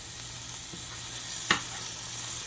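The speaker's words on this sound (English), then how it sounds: "When you're frying your burgers" Turkey burgers frying in a pan on the stovetop, a steady faint sizzle throughout with one brief sharp pop or clink near the middle.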